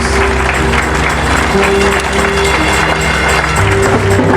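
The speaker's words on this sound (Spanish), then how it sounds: "Dale un fuerte aplauso a Dios, hermanos." A church congregation applauds loudly and continuously, many hands clapping in a dense roar close by, with a low steady hum running underneath.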